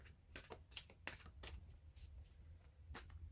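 A deck of tarot cards being shuffled by hand gives quiet, close, rhythmic riffling bursts about every half second.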